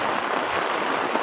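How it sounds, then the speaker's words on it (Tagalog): Steady rain falls on a street in an urban neighborhood, a dense, even hiss of drops hitting pavement close by, constant throughout with no voices. "Binipisyo yung ulan na yan."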